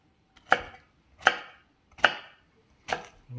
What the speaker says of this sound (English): we're just kind of chopping it up nice and quick.